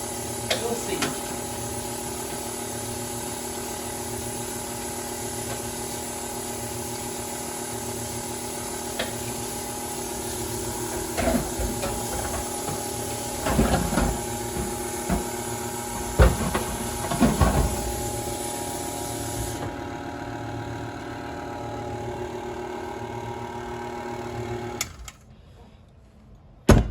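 An electric mixer runs steadily through a dark, fruit-laden black Christmas cake batter, a constant close mechanical whir and hum with occasional clatters and bumps against the bowl, then cuts off near the end.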